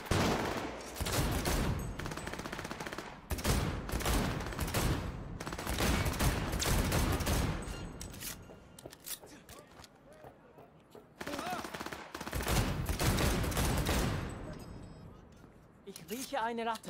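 Gunfire crackles in a gang war in Cyberpunk 2077, with repeated bursts of automatic shots in loud, dense volleys separated by short lulls, and voices in the mix.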